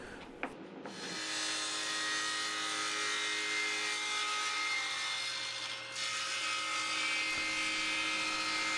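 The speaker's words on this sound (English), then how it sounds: "I had my doubts about whether my saw was going to be up to this cut" A saw with a thin kerf combination blade whines steadily through an end grain cutting board, starting after a brief knock and holding a loud, continuous tone throughout.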